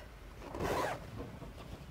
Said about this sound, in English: I'm going to open the zip.